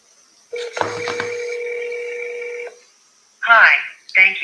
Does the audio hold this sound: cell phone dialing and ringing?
yes